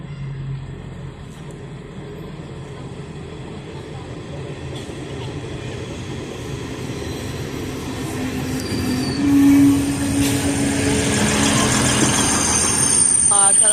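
A Turkish State Railways (TCDD) train rumbles steadily past nearby at Selçuk, wheels clattering on rails with a brief metallic squeal partway through; the noise swells slightly toward the end.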